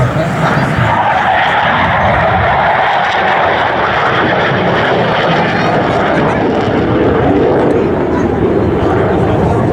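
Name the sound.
Dassault Super Etendard jet flying past at airshow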